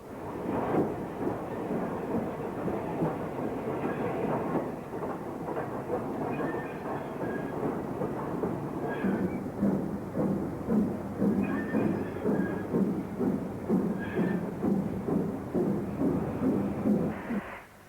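A 1950s steam locomotive hauling a passenger train rumbles steadily past with rhythmic chugging and rattling of wheels, loud and continuous, mixed with clanking carriage noise.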